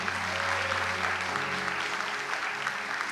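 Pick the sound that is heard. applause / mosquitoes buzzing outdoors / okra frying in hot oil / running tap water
applause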